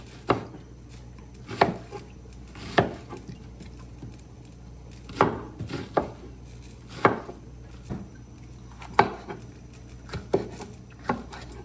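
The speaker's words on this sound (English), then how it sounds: "So I can always chop it up and put it in there" Knife chopping jalapeno pepper and onion on a cutting board for coconut dumplings, with sharp, irregular knocks spaced about a second apart and scattered softer taps between them, close and fairly loud, with no talking.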